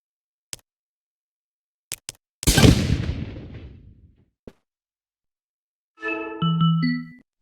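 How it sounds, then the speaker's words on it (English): A cannon fires in a Meta Quest VR tutorial game, a single booming blast with a long decaying rumble, preceded by small clicks and followed by a short chiming tone. "fire the Canon using the button"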